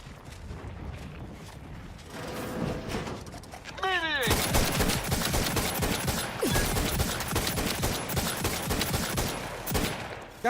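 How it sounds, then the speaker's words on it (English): Rapid automatic gunfire in The Outer Worlds 2 breaks out after a mechanical whir, continuing as dense, loud bursts for several seconds amid game sounds, with a voice talking faintly underneath. "I am actively shooting, walking in front of me"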